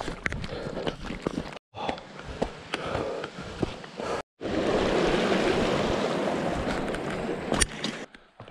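A mountain creek near Buchanan Pass in Colorado's Indian Peaks rushes as a steady broadband wash, with footsteps and handling noises on the trail and brief dropouts before a louder, continuous stretch of flowing water.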